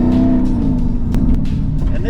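Twin-turbo V8 of a Mercedes-AMG GT with an aftermarket exhaust, a loud, steady, close engine drone with a low rumble and a few sharp transient pops.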